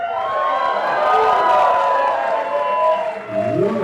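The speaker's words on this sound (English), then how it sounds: "Give them a round of applause, folks." Wedding guests cheering and applauding after the parents' speeches, a loud, sustained mix of whoops, high shouts and clapping from a close crowd that briefly dips near the end before rising again.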